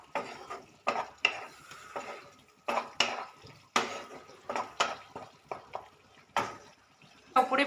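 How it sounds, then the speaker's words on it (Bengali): A spoon stirs sugar into a rui fish kalia curry in a pan, giving irregular scraping and clinking strokes close up, with a faint sizzle underneath between the strokes. "চিনিটা ভালো করে মিশিয়ে দিলাম"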